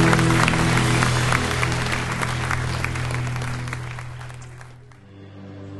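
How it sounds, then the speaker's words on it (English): A church congregation at a weekend Christian Assembly service applauds loudly over sustained organ-like music, the dense clapping thinning and fading out near the end. "Why don't we just applaud the Lord?"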